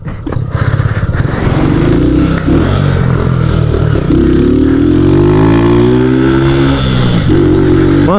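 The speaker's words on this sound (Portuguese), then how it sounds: "nunca tentei fazer zerinho nessa moto. Será que sai?" A Honda Titan 150 motorcycle engine revs loudly and close by while attempting a donut, its pitch climbing and falling in repeated surges over a constant throaty drone.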